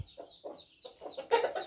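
A young chicken clucks in short, soft bursts, a few close peeps and clucks spaced apart, then a louder, busier run of clucking at the end.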